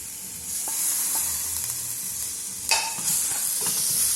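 Fried potatoes with added tomato being stirred in a pan, with a continuous sizzle under repeated scraping stirs and a sharp burst of hiss partway through as the tomato hits the hot surface.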